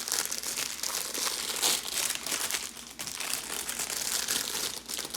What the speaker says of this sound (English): we're going to go ahead and open up our bag